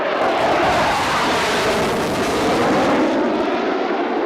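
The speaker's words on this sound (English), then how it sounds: "Tornado, a variable geometry aircraft" A Panavia Tornado variable-geometry jet at the 1988 Biggin Hill Airshow, a loud, steady roar of jet engines that stays constant throughout, heard outdoors.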